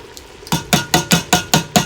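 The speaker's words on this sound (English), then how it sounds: "we're going to add a 15-ounce can of tomato sauce" Thick tomato sauce from a 15-ounce can glugs and plops into a pan of spaghetti sauce in seven evenly spaced, fairly loud wet pulses, each a soft thud with a splashy tail.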